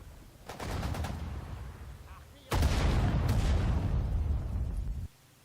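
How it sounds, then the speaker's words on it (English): An anti-tank gun fires at a ground target in the World War II strategy game Sudden Strike 4, with heavy booming shots and rolling gunfire in two loud bursts separated by a brief lull. "we're going to do the same thing with this anti-tank gun right here. We're going to attack ground"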